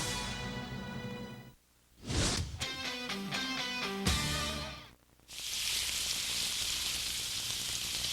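Bacon sizzles steadily in a skillet, a loud, continuous crackling hiss. It briefly dips and resumes with a burst of bright spattering. Some tonal musical sounds are mixed in.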